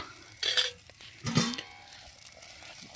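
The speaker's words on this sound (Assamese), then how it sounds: "ঢাকনা মাৰি দিলোঁ" A lid is set on a pot of simmering khichdi, producing two brief metallic clatters close by, about a second apart, then a quiet low background.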